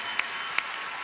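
Arena audience at the World Figure Skating Championships in Boston applauding ice dancers Madison Chock and Evan Bates, a steady wash of clapping from a large crowd with a couple of sharp louder claps standing out.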